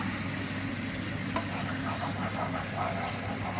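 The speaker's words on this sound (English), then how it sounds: "mix and continue to stir until the caramel dissolves" Caramel bubbles and sizzles in a pan as it is stirred for crepe Suzette, a soft, steady frying hiss with faint scraping running throughout.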